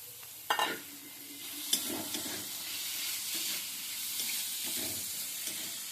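Masala paste with grated carrot sautéing in a pan, soft continuous sizzle with intermittent scraping stirs and a few sharper knocks of the spoon, close up and quiet.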